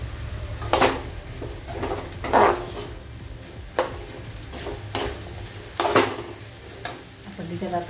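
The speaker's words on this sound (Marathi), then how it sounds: "आपण आता आपली केळी तेलात टाकून घेऊ आणि आपल्याला हे चांगलं परतवून घ्यायचे आहे" Banana pieces stir-fried in hot oil in a pan, with a steady sizzle beneath sharp, intermittent scrapes of a utensil stirring and tossing them at irregular intervals; no one speaks.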